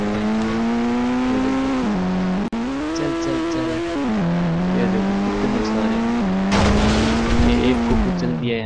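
A Mahindra Thar in Indian Bikes Driving 3D brakes hard and skids, its loud engine tone dipping and rising before a harsh tire squeal near the end, all close and continuous without talk.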